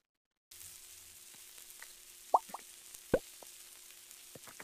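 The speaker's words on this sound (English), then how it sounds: "fry the hot dog." A hot dog fries in a cooking video game, giving a faint, thin sizzle with a few soft plops and drips against a quiet background.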